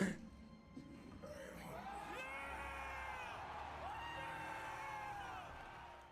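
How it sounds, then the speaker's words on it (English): A large crowd cheers and whoops excitedly at the E3 2016 God of War gameplay reveal, with shrill rising yells that swell and hold steadily over several seconds of dense cheering. "Let's just say the crowd would be hyped by the reveal."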